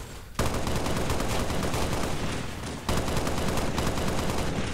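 Assault rifle gunfire from the Halo mod of the VR game Blade & Sorcery: a dense, sustained automatic burst that starts abruptly, keeps up steadily, dips briefly, then resumes loud and close, with no talking.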